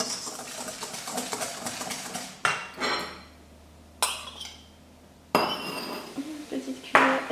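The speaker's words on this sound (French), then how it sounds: "vous mettez une petite cuillère et vous mélangez" A small spoon stirs a homemade natural mixture in a glass with quick runs of light clinks and taps against the rim, separated by brief quiet gaps and louder knocks, with speech in the background.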